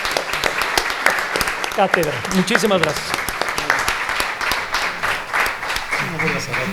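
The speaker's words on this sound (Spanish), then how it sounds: "Démosle un aplauso a Fernando" Audience applause at a tourism lecture event, steady clapping throughout with someone speaking over it at close range.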